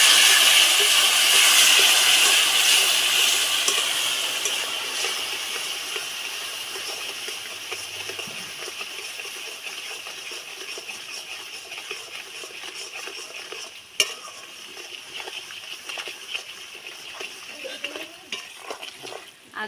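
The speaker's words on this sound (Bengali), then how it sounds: "আমি তেলের ওপর চিনি দিয়েছি, দেখুন কী অবস্থা, গোটা গোটা হয়ে যাচ্ছে।" Sugar and water hitting hot oil for tamarind pickle give a loud, close, steady sizzling hiss that fades gradually, with a few clinks near the end.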